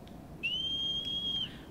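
A rising, then steady high whistle sounds for about a second to call the horse in the video game Shadow of the Colossus, clear over a low background hum.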